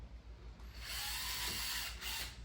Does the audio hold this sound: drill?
yes